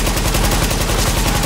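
A booby trap goes off in The Division video game, a loud, close burst of rapid, rattling blasts that fills the whole short moment with no voices.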